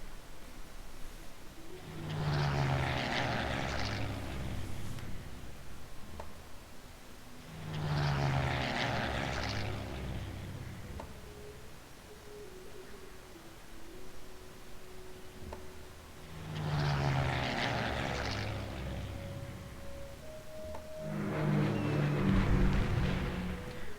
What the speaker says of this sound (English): Yeah, those planes.